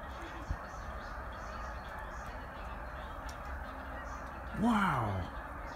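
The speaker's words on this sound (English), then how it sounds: "The geese?" Geese in the Scrap Life video game give a loud, harmonic honk near the end, rising above a steady hum of game ambience.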